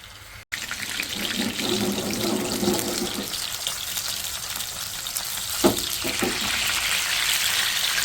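Chicken seekh kebabs fry in a little oil in a pan, making a steady hissing sizzle with a few brief clatters and knocks partway through.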